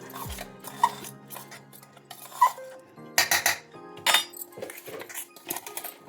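A spoon clinks and scrapes against a jar while stirring ground moringa leaf spice powder, a few bright metallic taps followed by quicker rattling stirs, close and clear.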